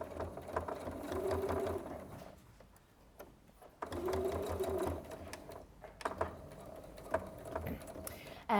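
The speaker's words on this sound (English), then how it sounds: "And then I'll just sew up here." A domestic sewing machine stitches fabric in two close, steady bursts of whirring needle action, pausing in between and then giving a few shorter runs with light handling clatter.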